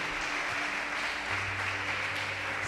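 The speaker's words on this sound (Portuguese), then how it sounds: "vamos dar uma salva de palmas para os nossos visitantes" A congregation in a church service applauds to welcome visitors, a steady, dense wash of clapping that holds evenly throughout at moderate loudness.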